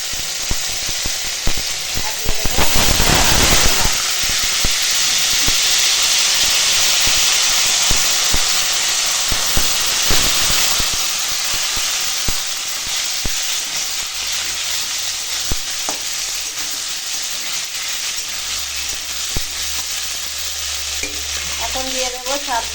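Bay leaf, dried red chili and panch phoron tempering crackle and sizzle in hot mustard oil in a kadai, with a loud burst at first that settles into a steady close frying hiss and occasional spoon scrapes.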